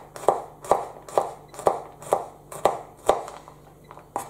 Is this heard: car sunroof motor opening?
no